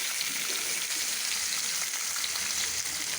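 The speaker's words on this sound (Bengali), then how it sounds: "এখন মাছটা ভাজবো, আস্ত আস্ত ইলিশ মাছ ভাজা।" Whole hilsa fish frying in oil, a steady dense crackling sizzle that holds at an even level throughout with no one speaking.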